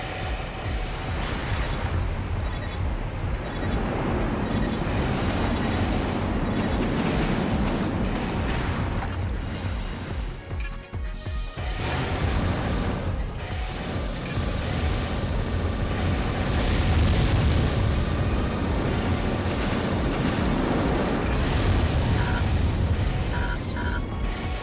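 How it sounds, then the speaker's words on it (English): Machine gun fire in the mech combat game Armored Core 3, dense rapid bursts mixed with booming impacts and explosions, loud and continuous throughout with a brief dip midway. "All I've got left is the machine gun"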